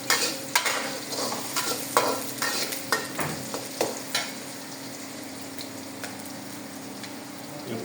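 Aloo dum cooking in a pan, with a steady sizzle of frying and repeated clinks and scrapes of a spoon stirring, close and fairly loud, no talking.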